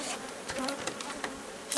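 Honeybees of a half-Buckfast strain buzz at a hive, a dense continuous hum of many nearby insects with individual bees passing close.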